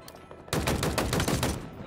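Rapid automatic machine gun fire in Halo Infinite erupts abruptly and rattles on as a dense, loud burst of shots before tapering off.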